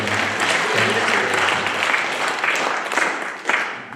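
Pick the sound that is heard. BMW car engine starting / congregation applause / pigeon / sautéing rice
congregation applause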